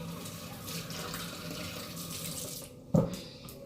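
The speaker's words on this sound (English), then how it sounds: "I gotta wash my hands." Kitchen tap water running steadily into a sink during handwashing, a continuous close hiss and splash, briefly broken by a sharp clunk near the end.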